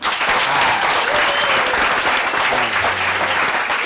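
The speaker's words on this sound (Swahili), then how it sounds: "Wapi makofi yao?" A studio audience at a talk show applauds the guests with a dense, loud, continuous wash of clapping that holds steady for the full stretch.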